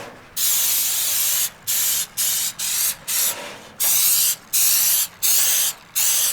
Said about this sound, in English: Take your spray, be as liberal as you can with it.